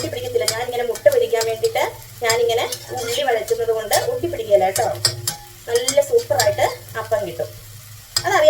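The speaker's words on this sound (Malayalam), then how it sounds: "നമ്മൾ ഇങ്ങനെ ഉള്ളി ഇങ്ങനെ ചൂടാക്കിയാല് ആ ചട്ടി നല്ല മയങ്ങി കിട്ടും കേട്ടോ" Onions stir-fried in an iron wok to season it, giving a steady close sizzle broken by repeated scraping and clinking of a spatula against the pan, loud and busy throughout.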